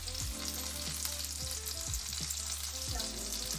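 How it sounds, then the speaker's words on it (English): Onions sizzle steadily in a frying pan while chicken adobo is being cooked, a constant close hiss with occasional stirring scrapes and no voices. "Listen to that sizzle, you can't get enough of it."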